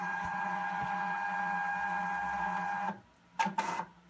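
A steady mechanical hum and whir from a Zebra ZP 450 label printer self-calibrating runs, stops abruptly, then a few short feeding clicks and buzzes follow.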